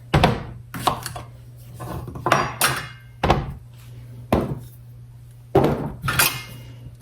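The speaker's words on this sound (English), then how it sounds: "Let's do about 3 or 4 of our zucchini. Cut the ends off." A knife chops down through the ends of zucchini on a cutting board, about seven crisp, evenly spaced knocks with short pauses between them, close and clear over a faint steady hum.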